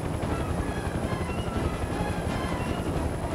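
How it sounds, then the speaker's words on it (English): A helicopter in the video game Mercenaries 2: World in Flames flies with a continuous, loud rotor thrum and engine roar, steady throughout with no talking. "in the world's slowest helicopter goes to every helicopter in this damn game"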